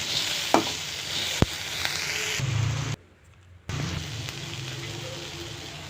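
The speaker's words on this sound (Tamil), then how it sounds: "தக்காளி நல்லா வதங்கட்டும்" Tomato sautés for sundakkai thuvayal, a soft steady sizzle with stirring and a few sharp spoon clicks, then a short near-silent gap before the frying sizzle resumes.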